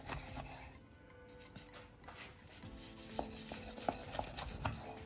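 A knife saws through an avocado quesadilla on a cutting board, a quiet rasping crunch of crisp tortilla with light rubbing strokes and a few soft taps of the blade against the board.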